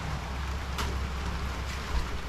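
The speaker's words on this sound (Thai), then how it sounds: "ฝนกำลังตกโปรยปลายครับ เพราะว่าตอนนี้พายุกำลังมาถึงที่ซาลาโซต้าครับ" Light morning rain falls in Sarasota as Hurricane Ian arrives, a steady soft hiss with low wind rumble against the microphone and no voices.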